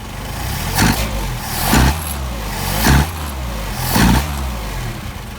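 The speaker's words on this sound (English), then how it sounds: "And then you rev it up and make sure it doesn't backfire on you" A Mercedes 190SL engine fitted with Solex 44PHH carburetors revs in four distinct bursts about a second apart, each rise swelling over a steady close idle, with no talking.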